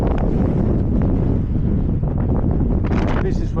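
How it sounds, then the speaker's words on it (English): Strong wind buffets a microphone during a ride home, a loud, continuous roaring rumble that drowns most other detail, with a voice talking faintly through it. "the wind is blowing holy"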